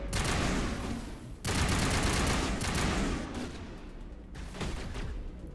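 Rapid bursts of gunfire rattle through a Noveria firefight in a video game, loud and continuous with short breaks between salvos.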